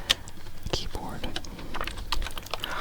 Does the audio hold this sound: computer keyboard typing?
yes